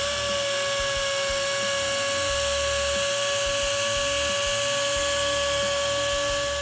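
A machine sands car bodywork during polishing preparation, giving off a steady, loud, continuous high whine with a constant rotary drone and no pauses.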